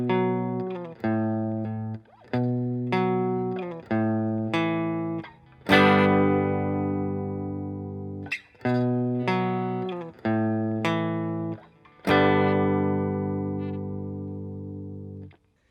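Distorted electric guitar plays a bridge, repeating a pattern of short choppy chord stabs that break into longer ringing chords, loud and close with an effects-heavy tone and no voices.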